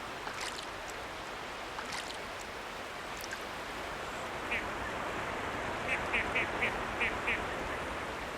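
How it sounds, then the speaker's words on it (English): Faint merganser duck calls come in a quick series of short quacks over a steady background of moving water, somewhat distant. "Mergansers are also called fish ducks."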